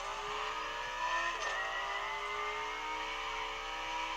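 A car drifting in the racing game The Crew Motorfest, a steady high engine whine with a brief rise in pitch, continuous and loud, no talk.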